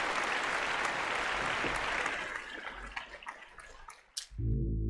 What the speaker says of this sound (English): And we give you a big applause.